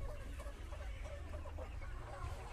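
Village chickens, including a Kaveri breed bird, cluck softly in a farmyard, a faint low murmur of fowl sounds spread through the background with no clear individual call.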